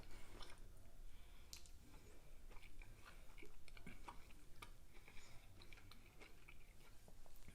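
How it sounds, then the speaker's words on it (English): Palmini hearts-of-palm pasta in Alfredo sauce chewed close to the mic, soft wet munching and small crunchy bites repeating steadily at a low level, with no talking. "But I'm going to taste this pasta right now."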